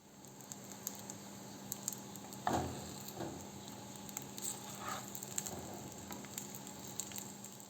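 Quiet, continuous sizzling of dumplings frying in butter in a pan, with soft crackles and one brief scrape of stirring partway through.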